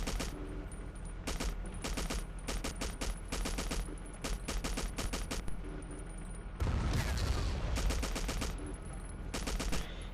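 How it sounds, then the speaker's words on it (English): Sustained automatic machine gun fire from a tank in Battlefield 1942, set in the Battle of the Bulge, comes as rapid bursts with short gaps and a heavier blast partway through, steady and moderately loud. "I'm just gonna mow them all down with my cannon fire and machine gun fire."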